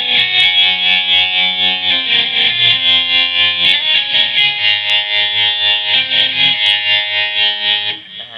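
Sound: electric guitar through Line 6 Pocket POD Express amp modeler

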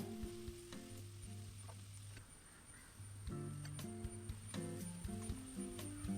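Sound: chopped onions sizzling in coconut oil in a pan

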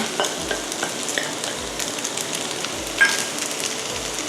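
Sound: stir-frying fried rice with salted fish

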